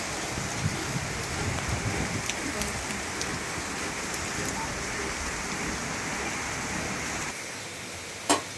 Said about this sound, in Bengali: আর অনেক বৃষ্টি, খুব বৃষ্টি হইতেছে।